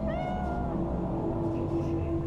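A cat in the video game Cyberpunk 2077 gives a single drawn-out meow, close and clear over a steady low background hum.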